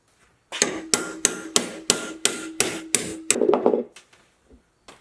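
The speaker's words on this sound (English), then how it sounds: "bringing it over the vise and just pretty much hammer it until submission" A hammer strikes a metal bracket held in a vise about nine times in a steady rhythm, sharp and ringing up close, ending with a quick flurry and a few quiet taps.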